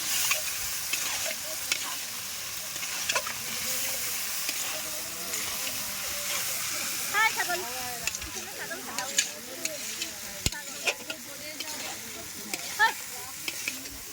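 Chicken meat and tomatoes frying in oil over a wood fire give a steady, close sizzle and hiss with repeated scrapes of stirring, while someone talks intermittently over the cooking.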